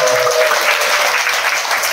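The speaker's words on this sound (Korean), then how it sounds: "우리 김선주 사무국장님께 큰 박수 한번 보내주시면" Loud, dense applause from a crowd at an anniversary ceremony, steady and sustained throughout with no voices over it.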